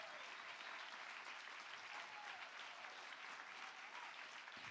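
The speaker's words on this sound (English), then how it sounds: "welcome our storytellers back onto the stage with the biggest round of applause ever" A large audience applauds steadily and loudly, a dense wash of clapping that holds evenly throughout without pause.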